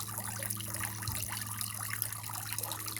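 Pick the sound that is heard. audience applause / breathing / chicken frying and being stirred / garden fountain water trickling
garden fountain water trickling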